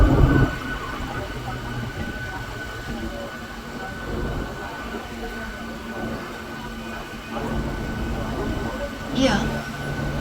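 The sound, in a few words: train on railway track at Chennai Central station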